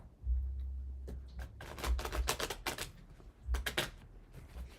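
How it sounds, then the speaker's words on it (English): A deck of tarot cards being shuffled by hand, close up, with soft papery riffles and rapid clicking bursts in uneven clusters. "I gotta shuffle one more time."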